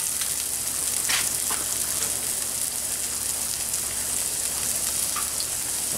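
Onions and plantains fry in oil in an old skillet, giving a steady close sizzle and crackle with a few faint pops and no speech.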